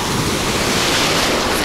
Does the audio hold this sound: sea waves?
yes